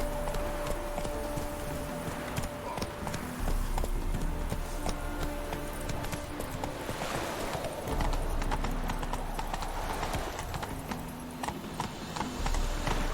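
Horse hooves trot in a steady clip-clop rhythm, sustained and fairly close, over a busy game soundscape in The Witcher 3.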